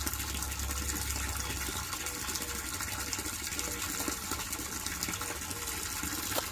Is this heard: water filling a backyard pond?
yes